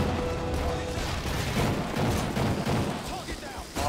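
Call of Duty Modern Warfare 3 gameplay brings dense, rumbling gunfire and explosions, loud and continuous, with voices talking over it.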